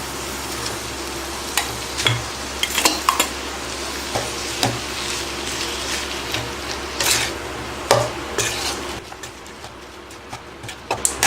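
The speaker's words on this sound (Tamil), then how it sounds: "எல்லா சாதத்தோடு நல்லா காரம் உப்பெல்லாம் கலந்து வர அளவுக்கு நல்லா கலக்கி விடுங்க" Rice with salt and chilli spice stirred in a pan for thatta payir sadam, giving repeated scraping and soft sizzling strokes at an uneven pace, close and fairly quiet, with no one speaking.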